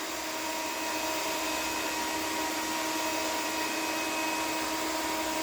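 A hair dryer blows paint across a canvas with a loud, continuous, even whir that runs unbroken throughout, with no voices.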